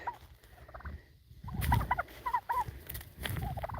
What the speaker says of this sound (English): Live turkeys on Thanksgiving Day